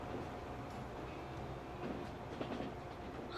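Trains roll through a Transport Fever 2 rail scene near a big bridge, giving a steady close rumble of wheels and rail clatter with a few brighter clicks, continuous and without talk.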